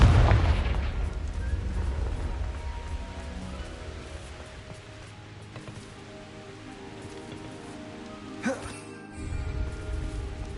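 A Confringo spell in Hogwarts Legacy opens with a loud close blast that fades into a long crackling, rain-like rumble, with a brief sharp burst near the end.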